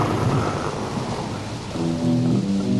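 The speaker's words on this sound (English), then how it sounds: "we got to put in some rain and thunder" Steady heavy rain hisses with deep rolling thunder rumbling underneath, opening a rock song, with low musical tones entering toward the end.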